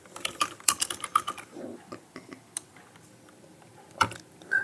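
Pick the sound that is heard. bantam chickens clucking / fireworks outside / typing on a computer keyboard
typing on a computer keyboard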